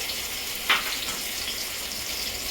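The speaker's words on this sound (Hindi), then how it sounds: "तेल अच्छी तरह गर्म हो चुका है। इसमें मैं आलू डाल रही हूँ।" Potatoes dropped into hot oil in a pan, a brief bright splash of sizzle followed by a steady, close frying hiss.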